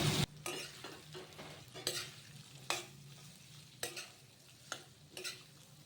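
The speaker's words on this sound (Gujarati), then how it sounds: "હવે આટલા થઈ જાય એટલે આપણે એમાં ટીંડોળા એડ કરી દઈએ" Ivy gourd frying with garlic and chillies crackles quietly in a pan while a spoon stirs in sharp, irregular scrapes every second or so, no talking.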